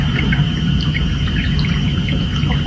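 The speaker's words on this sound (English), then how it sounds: "Sounds like birds or animals at the very least." Dense, loud chirping and screeching of many birds or creatures fills the air continuously, with insect-like trilling layered underneath.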